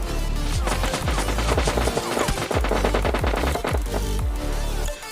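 Dense, continuous gunfire in PUBG Lite: rapid automatic bursts and booming shots layered over one another for about five seconds, loud and close, with no talking.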